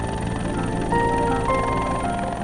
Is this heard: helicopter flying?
yes